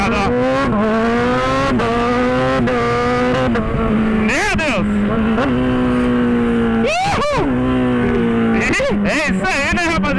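A Kawasaki Z1000 motorcycle fitted with a racing kit revs hard and changes gears without the clutch, its loud engine tone dipping and climbing sharply with each quick shift, while a rider exclaims over it.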